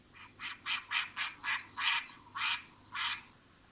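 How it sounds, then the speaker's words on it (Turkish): A duck quacks about nine times in a steady, evenly spaced rhythm, clear and moderately near over a faint background hum. "Ördek."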